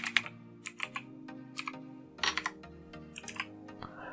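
Keys clack on a computer keyboard in short, irregular bursts of typing, close up and fairly quiet, with no one speaking.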